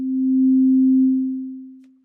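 A smooth, pure synth pad tone with a slow attack, made in the Vital synth, that holds steady at one pitch, then slowly fades away. It plays alone.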